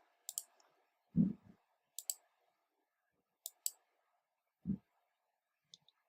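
Sharp, quiet right mouse clicks in small pairs, spaced a second or two apart, with a couple of soft thumps in a quiet room.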